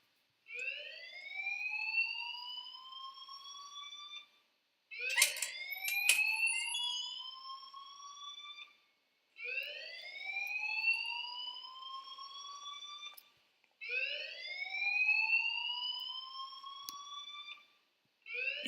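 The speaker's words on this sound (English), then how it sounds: "Leave Miss Caulfield alone and please turn off that alarm" Fire alarm ringing inside a school in the Life Is Strange video game: repeated loud rising electronic whoops in four bursts separated by short gaps, with no talk.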